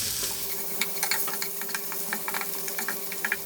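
Onions with garlic and pepper frying in a pan, sizzling steadily at close range while a utensil stirs them with light, irregular scraping ticks.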